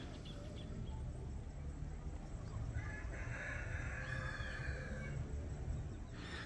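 Small birds chirp and twitter faintly in the distance over a steady background hiss, with a brief cluster of brighter calls midway.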